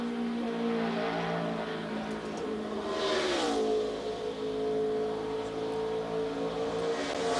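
A NASCAR stock car on a qualifying lap at Charlotte roars steadily, its engine pitch sliding down briefly then holding an even drone, heard from a distance without talk.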